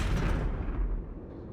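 A single deep boom from an explosion in a Skibidi Toilet animation bursts out and rumbles away, fading over about a second.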